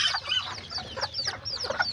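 Backyard chickens cluck and chatter close by, a hen among them, a string of short, busy calls overlapping for a couple of seconds.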